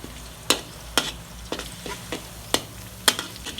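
Garlic sizzling in oil in a hot wok under steady frying crackle, punctuated by several sharp metallic clanks of a utensil striking the wok at irregular intervals.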